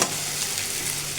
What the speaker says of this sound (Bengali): যখন এই যে নাড়াচাড়া করে যখন কষানো হয়ে গেছে আলুগুলো